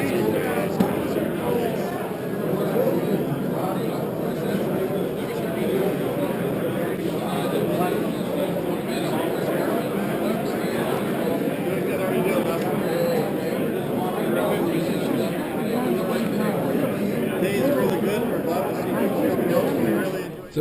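A busy outdoor ham radio flea market on a windy day, with a dense, steady murmur of many overlapping voices and crowd bustle that continues without a break throughout.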